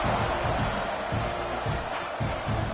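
Video game stadium crowd in College Football 26 roaring at kickoff, a dense continuous wash of cheering and shouting with rhythmic swells, no clear individual voices.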